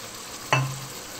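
A wooden ladle stirs bagoong in hot frying oil, giving one brief scraping swish over a soft sizzle, alone and close, followed by a short low hum as it fades.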